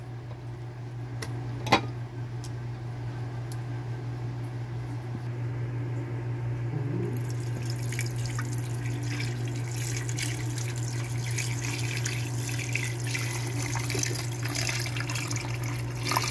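Water pours steadily from a tap into a pot of beef set to boil for nilaga, a continuous close splashing rush over a low constant hum, with one brief clunk near the start.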